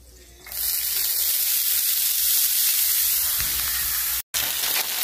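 Steak and asparagus sizzle in duck fat grease in a pan, a steady, loud hiss with spitting crackle that runs almost the whole time and drops out briefly near the end.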